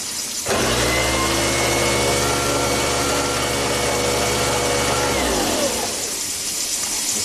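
Kitchen garbage disposal switched on under a sink after a fresh installation, a loud steady motor hum with grinding whir that runs for about five seconds, then shuts off and winds down, no talking.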